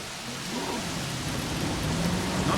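Steady rain with low rumbling thunder fills a stormy scene in the Jurassic Park video game, a dense continuous wash with no voices over it.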